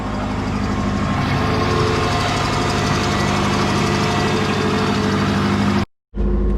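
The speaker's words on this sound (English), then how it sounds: "A bit rough on cold start because I don't have TGVs" A twin-turbo Subaru Forester engine idles roughly on a cold start without TGVs, a loud, close, steady rumble with uneven knocking pulses that cuts out briefly near the end.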